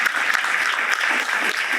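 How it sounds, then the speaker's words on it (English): Audience at an HBCU keynote event applauding, a dense, continuous wash of many hands clapping, steady and fairly loud, with no talk over it. "Let's give ourselves a round of applause."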